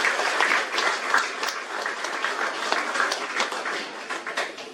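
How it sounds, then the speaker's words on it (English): Mourners at a funeral service applaud together, a lively crowd of hand claps that is strong at first and then gradually thins out over a few seconds. "I think that deserves a round of applause"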